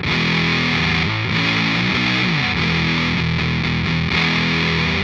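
An electric guitar plays through a fuzz pedal on the neck pickup, giving a loud, thick, saturated tone with a steady run of sustained notes and slides and no voices.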